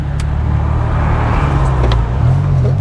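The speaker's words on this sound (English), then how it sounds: "on the accelerator, down to the floor, and it launches." Porsche Taycan electric car launching at full acceleration, heard from inside as a loud, steady low roar of road and drivetrain noise that rises slightly toward the end.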